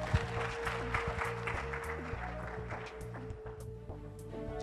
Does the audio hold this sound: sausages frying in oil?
no